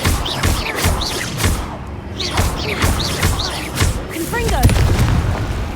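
Repeated booming spell blasts from a Harry Potter video game, several heavy thuds in quick succession mixed with game effects and a voice speaking over them.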